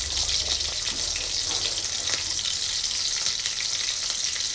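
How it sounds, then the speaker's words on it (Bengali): Chopped onions and green chilies fry in oil in a wok, a continuous close sizzle with bright crackling hiss and no voices over it. "কড়াইতে পরিমাণ মতো তেল দিয়ে দিলাম, পেঁয়াজ কুচি দিয়ে দিলাম। এখন অনেকগুলো কাঁচামরিচ দিয়ে দিলাম।"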